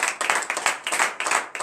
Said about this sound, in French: je vous invite ce matin à donner de vives acclamations à notre Seigneur Jésus